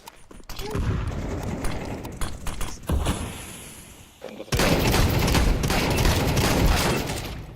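A flashbang grenade goes off in Counter-Strike 2, with scattered clicks and shots first, then a sudden loud burst and sustained ringing wash that fills the last few seconds.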